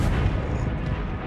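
A Confringo fire spell explodes in Hogwarts Legacy: a brief, loud, dense burst with a booming rumble and no speech.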